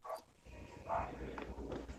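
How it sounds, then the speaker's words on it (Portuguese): A dog barks a few times in the background of an online class, short yelps rising over a steady room hum with faint voices nearby. "Tem alguém com cachorro aí na aula."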